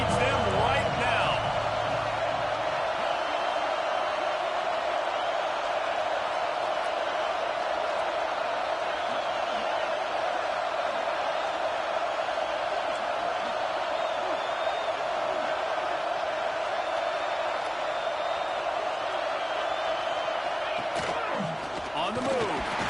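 A stadium crowd roars steadily at a college football game between Oklahoma and Tennessee, a dense continuous wash of cheering that holds at even loudness under a commentator's voice.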